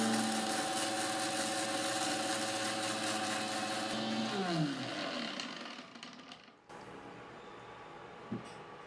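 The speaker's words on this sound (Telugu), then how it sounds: "మిక్సీ పెట్టేద్దాం." A kitchen mixer grinder blends ingredients for homemade hair oil, a loud steady motor whine with dense buzzing harmonics that winds down as the machine is switched off, leaving quiet room noise and one soft knock.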